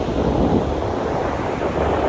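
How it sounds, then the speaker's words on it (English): Waves wash onto a beach at Surfers Paradise, Australia, in a loud, continuous roar of surf mixed with wind buffeting the microphone, with no voices. "This is a really nice beach."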